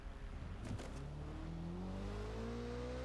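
A car in the video game Watch Dogs: Legion, set on the streets of London, revs and accelerates steadily with a rising engine whine, loud and close, and no one speaks.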